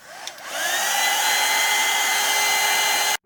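A hair dryer blows on a journal collage to dry wet paint, starting with a short rising whir, then a loud, steady close-up roar that cuts off abruptly at the end.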